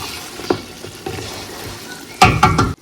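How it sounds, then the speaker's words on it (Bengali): Mutton stir-fries slowly in a pan, with a low sizzle broken by a few sharp spatula scrapes and clinks against the metal, close and fairly loud, with no talking. "কালারটা শুধু দেখাই, কষিয়ে কষিয়ে কষিয়ে কষিয়ে মাটন বানানো হচ্ছে"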